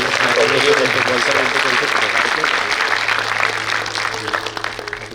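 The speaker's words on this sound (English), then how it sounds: "Big round of applause to each one of them" Steady, dense applause from a school annual day audience, loud and continuous throughout, with some indistinct voices mixed in underneath.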